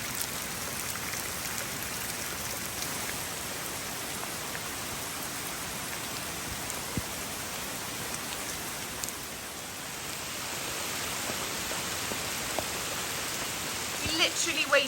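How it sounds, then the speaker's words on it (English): Torrential rain pours steadily on a farm in Portugal, a dense continuous hiss of heavy drops that holds even and close throughout, briefly easing near the middle before picking back up. "we wait for the torrential downpour to stop"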